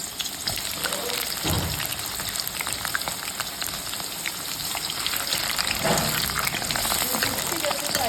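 Eggplants fry in hot oil in a pan for a stuffed potato and eggplant dish, giving a continuous loud sizzle with bubbling crackles and a few stirring clatters.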